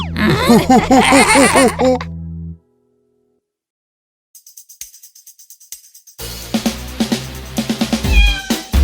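A cat meows several times in quick succession, loud and close, followed by a pause, then faint ticking and a burst of busier noisy sound.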